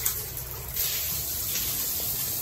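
Tap water runs in a steady, hissing gush at a house in an Indian village, continuous and fairly soft, with no voices.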